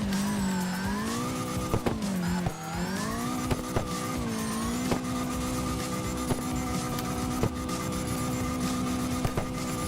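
A CarX Drift Racing Online car engine drones steadily, its pitch rising and dipping with revving, with occasional short clicks and tire noise.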